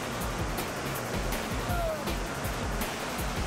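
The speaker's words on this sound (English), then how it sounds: "hundreds of rafters and kayakers will challenge the churning rapids" Churning whitewater rapids on Colorado's Arkansas River among the Rocky Mountains, a steady, loud rushing roar of broadband water noise that continues without a break.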